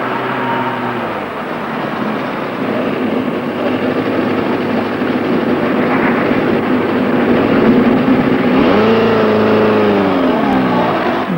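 A motorcycle braking from about 30 mph using only the front brake, in a 1980s riding-training run: a loud, continuous engine and road drone with the engine pitch sweeping down near the end as it slows.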